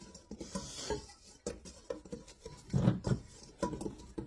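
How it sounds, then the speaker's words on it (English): Bread dough with salt and pizza spice being mixed in a bowl, heard as quiet, irregular stirring scrapes and soft knocks of a utensil, close and faint. "Let me just mix that together here."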